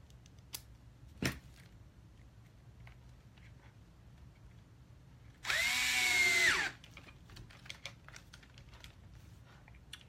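A power driver tightens screws on a servo, giving one loud whirring burst of about a second amid quiet clicks and handling noises.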